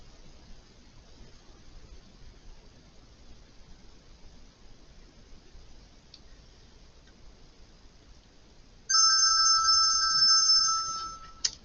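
A telephone ringtone starts suddenly after a long stretch of faint hiss and keeps ringing as a steady, bright electronic tone for a few seconds, then cuts off.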